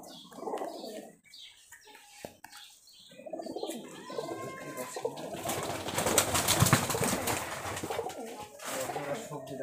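High-flyer Giribaz pigeons from Rajshahi coo in a loft, repeated throaty warbles and brief wing flaps, moderately close, with people talking in the background and a busier, noisier stretch in the middle.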